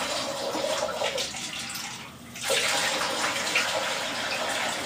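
Citric acid solution pours into a whiskey barrel being cleaned for homebrewing, a steady loud gushing stream that briefly dips near the middle and then resumes at full force.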